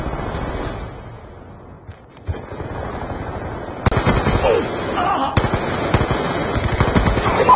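Light machine gun fire in a Call of Duty-style shooter, with sustained bursts and sharp gunshots that grow denser and louder partway through, amid other battle noise and faint voices.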